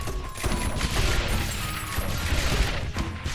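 Mortars in a tower defense video game firing and landing in a dense, continuous barrage of thuds and crashing blasts, loud and close with no talk.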